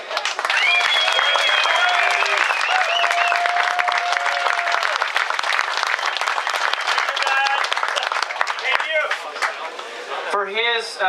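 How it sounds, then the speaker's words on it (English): A crowd at Lake Havasu, Arizona, applauds a world-champion jet ski developer at the debut of the Kawasaki SX-R stand-up, with sustained loud clapping under voices and cheers and a speaker near the end. "So he deserves applause today"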